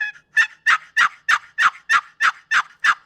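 Turkey box call worked with the call held in an unusual grip, giving a run of about ten evenly spaced, raspy yelping notes, close and loud with nothing else heard.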